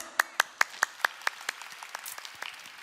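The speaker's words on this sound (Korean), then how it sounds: "박수!" A church congregation claps during a sermon, starting with six or seven sharp, evenly spaced claps up close, then thinning into softer, scattered, irregular claps farther back.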